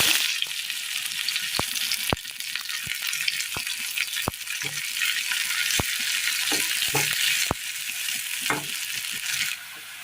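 Dense, steady sizzling of mustard seeds popping in hot oil in a pan, with sharp crackles and snaps scattered throughout, close and fairly loud, no voices.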